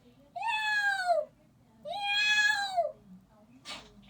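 A person imitates a cat, giving two drawn-out meow-yowl calls with a bright, rising-then-falling harmonic pitch, each close and clear, followed by a short breathy sound.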